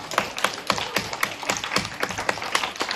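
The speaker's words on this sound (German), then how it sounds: "Dafür bekommt die Frau Rodemann einen ganz tollen Applaus." An audience at a children's daycare puppet theatre show claps for the organiser, the irregular claps quick and close, no voices over them.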